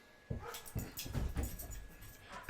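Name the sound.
dog whimpering and yipping for its toy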